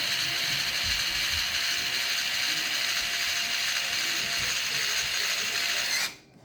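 A tool drives a screw into the plastic shock body of a Redcat Kaiju RC truck, giving a steady, continuous ratcheting whir that stops abruptly near the end.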